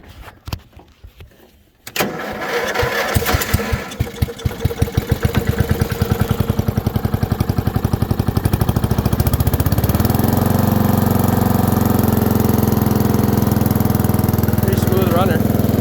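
A 1992 Montgomery Ward riding lawnmower engine cranks after a short quiet lead-in, catches and sputters unevenly, then settles into a steady, loud running drone close by.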